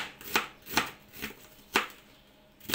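A knife chops an onion on a cutting board, five crisp separate cuts at a slow uneven pace, close and fairly quiet with no talk.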